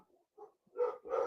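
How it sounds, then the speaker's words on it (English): Several dogs bark indoors in a few quick, moderately loud bursts, with a faint voice earlier on. "That's my dogs."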